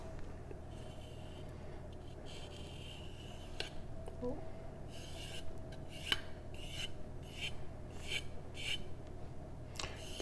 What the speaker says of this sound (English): you strop at the same angle as the sharpening